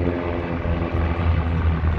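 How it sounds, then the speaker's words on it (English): Acrobatic propeller planes fly overhead above a harbor marina, a loud, steady droning engine roar with a buzzing, throbbing tone that continues throughout, with no voices. "Some acrobatic prop planes making smoke above the harbor here, above the marina"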